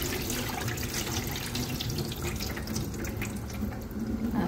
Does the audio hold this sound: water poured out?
yes